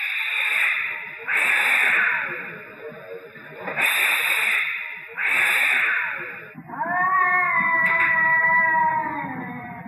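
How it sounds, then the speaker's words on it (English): Cats caterwauling at 3 a.m. in a New York City street, several long rising and falling yowls in succession, loud and close, ending in a wavering drawn-out wail. "And every night at 3 a.m., there are cats."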